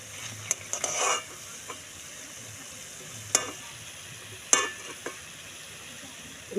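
Banana blossom chops fry in a pan with a steady, close sizzle. A few sharp clinks and scrapes come from a utensil stirring and turning them in the oil.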